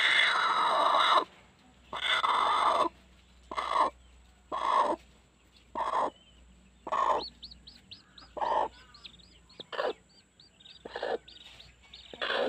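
Hmong black chickens on a hill-farm clucking in loud, near bursts at a steady rhythm, with thin high chick peeps in between.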